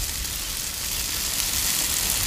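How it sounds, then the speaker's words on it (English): Burger bun toasting on a Blackstone griddle, a steady close broadband sizzle that holds evenly throughout with no voices. "Alright, now we gotta toast up our bun."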